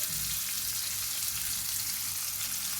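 Goan-style prawns fry in hot oil, making a dense, even sizzle that stays loud and close throughout with no voices.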